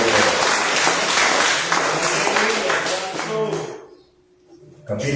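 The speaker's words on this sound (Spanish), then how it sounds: "Dele palmas al vencedor." Congregation clapping loudly in a Spanish-language church service after a hymn, dense applause mixed with voices that fades to near silence before a final sound near the end.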